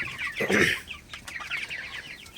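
Broiler chickens on a poultry farm clucking close by, one louder squawking call near the start followed by softer repeated clucks from the flock.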